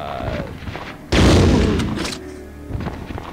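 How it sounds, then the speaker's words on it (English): A fragmentation grenade going off in Resident Evil 2 makes one loud, close boom that rolls off over about a second, set between quieter game sounds before and after. "Unlike RE1, where it was just one solid grenade, this is like a fragmentation bomb."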